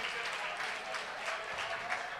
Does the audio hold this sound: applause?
yes